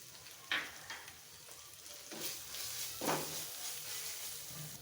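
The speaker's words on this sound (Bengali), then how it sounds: "1 চা চামচ মরিচ গুঁড়ো, 1 চা চামচ হলুদ গুঁড়ো, স্বাদ মতো লবণ, হাতে বানানো একটা মশলা দিয়ে ভালোভাবে কষিয়ে নেব" Chili powder, turmeric, salt and a homemade spice mix sautéing in a pan for a chickpea curry, a soft steady sizzle broken by a few louder bursts of stirring, close by and without talk.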